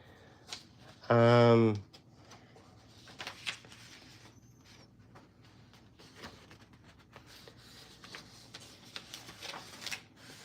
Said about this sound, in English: My printer decided to print 5 different copies.